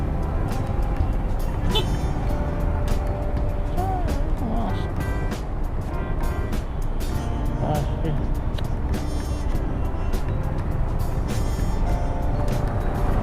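Busy road intersection traffic with cars, trucks and buses idling and moving, a steady dense rumble throughout, with occasional beeps and a voice talking over it.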